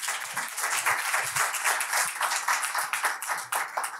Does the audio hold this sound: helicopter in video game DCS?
no